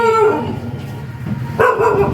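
A dog barks or howls twice, loud and close, with a drawn-out harmonic call at the start and another near the end over steady background noise, outdoors at a residence in the Philippines on a sunny morning.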